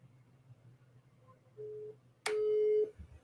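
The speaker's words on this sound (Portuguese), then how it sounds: "Vamos ligar pelo Zap." A WhatsApp phone call rings out as steady electronic tones: one short tone, then a louder, longer one, with no voices over them.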